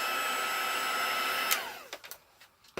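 A hair dryer blows over a card freshly coloured with wet Distress inks, a steady close whir that cuts off partway through, followed by a few light clicks and handling knocks.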